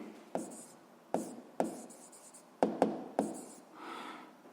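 A pen writes on paper in short, separate bursts of scratchy strokes, quiet and close, with small pauses between the words.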